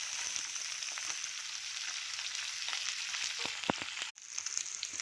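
Chopped onions and green chillies fry in hot oil, giving a continuous bright sizzle at moderate distance, steady throughout apart from one brief dropout near the end.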